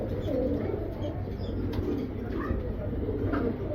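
Racer pigeons coo softly in a loft, low repeated throaty calls over a steady background hum, with a few faint chirps and rustles.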